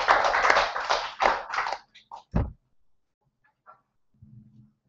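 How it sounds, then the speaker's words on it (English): A small audience at a chess championship prize-giving claps briefly, the applause loud at first and quickly dying away into a few scattered taps and near silence. "Round of applause there, good."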